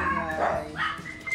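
A dog barks in short, sharp bursts close by in a residential street, the yelps rising and falling over about a second, with faint voices in the background.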